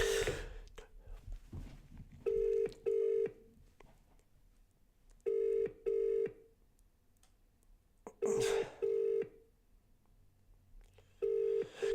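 An outgoing phone call rings out in repeated paired electronic tones at regular intervals, with quiet gaps and faint breathing between the rings.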